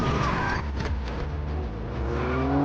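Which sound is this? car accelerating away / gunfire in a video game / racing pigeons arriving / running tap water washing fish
car accelerating away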